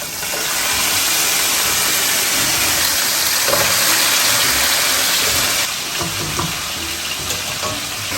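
Mutton pieces dropped into a pot of crackling cumin seeds and starting to brown, a loud, dense, continuous sizzle that eases slightly partway through while stirring continues, no talking.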